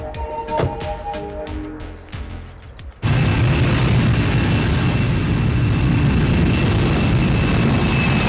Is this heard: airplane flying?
yes